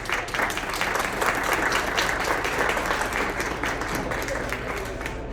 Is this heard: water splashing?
no